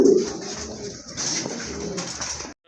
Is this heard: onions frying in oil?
no